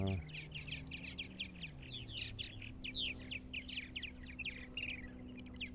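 Purple martins on Eastern Long Island chirp and chatter in quick, repeated bursts of bright notes, moderately near, over a steady low hum, with no talking.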